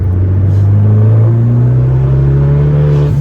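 Loud car nicknamed Mouseball pulling back onto the road after letting traffic pass, engine droning as it accelerates steadily with rising pitch, close and continuous.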